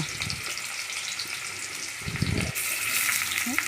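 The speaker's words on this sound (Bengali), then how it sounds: "সাদা তেল গরম করে আমি পুর ভরা আলুগুলো একটা একটা করে তেলের উপরে বসিয়ে দিলাম।" Potatoes stuffed with filling fry in hot white oil in a wok, giving a steady close sizzle with louder bursts of crackling as pieces settle in, and no voices.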